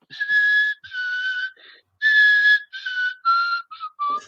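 A person whistles a melodic tune in a series of clear, loud phrases with short pauses between them, alone with no talking.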